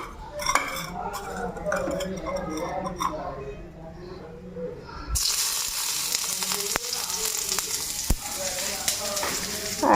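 Crushed ginger and radhuni spice hit hot oil in a pan halfway through, setting off a loud, steady sizzle that follows a stretch of talking with faint kitchen clatter.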